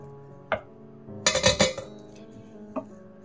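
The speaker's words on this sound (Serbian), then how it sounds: "Ubacujemo sada ovaj brokoli." Broccoli goes into a frying pan of melted butter on heated oil, giving a short burst of clattering and sizzling between a few light metallic clinks of the pan.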